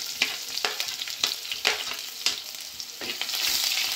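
Sliced onions fry in coconut oil with mustard seeds and fenugreek for a Kerala-style fish curry, giving a steady bright sizzle broken by repeated scraping stirs in the pan, close and loud, with no talking.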